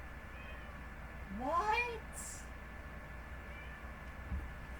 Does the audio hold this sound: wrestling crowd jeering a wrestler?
no